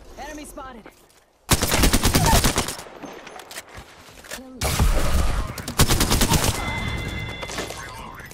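Loud bursts of automatic gunfire in Apex Legends, in two long sustained volleys separated by a brief pause, with game sounds in between.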